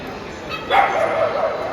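Dogs at an indoor dog playground in a shopping mall let out a quick bark and yip close by, while people talk over the background chatter.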